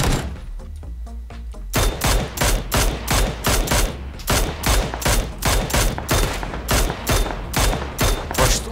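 Gunfire in PUBG rings out as a rapid, evenly spaced string of loud, sharp shots, about two per second, following a brief quieter lead-in.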